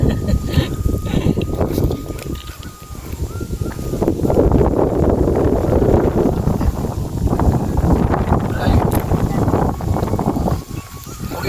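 Strong wind blows outdoors in a forest, buffeting the microphone with a continuous loud rumble that swells and eases, while people talk over it.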